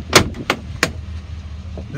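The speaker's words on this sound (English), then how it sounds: "This door makes a loud clack when you open it." Driver's door of a 2006 Chevy Silverado 3500HD work truck clacking open: three sharp, loud metallic knocks close together at the start, then quiet cab ambience.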